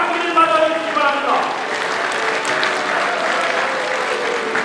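Loud, steady applause from a large crowd at a political party event fills the space, with a voice speaking Korean over it at the start.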